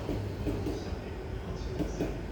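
A train pulling into a station platform in Tokyo, Japan, with a low steady rumble of wheels and carriages that stays fairly faint and is heard beneath nearby talking.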